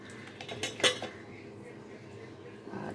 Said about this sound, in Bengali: এখন আলুটাকে এই বাটির মধ্যে ঢেলে নেব